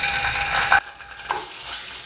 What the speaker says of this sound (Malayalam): ഓയിൽ ഒന്ന് ചൂടായിട്ട് വരുമ്പോഴത്തേക്കും ഇതിലേക്ക് നമുക്ക് ഒരു 1/2 ടീസ്പൂൺ അളവിൽ ചെറിയ ജീരകം ചേർത്ത് കൊടുക്കാം.